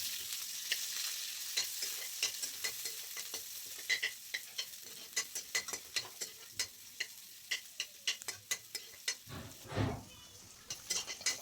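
Garlic and chopped onion frying in a little mustard oil in a wok, a quiet sizzle under a steady run of sharp clicks and scrapes from stirring, with a short louder clatter near the end.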